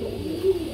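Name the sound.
pigeons cooing, Iranian Huma pigeons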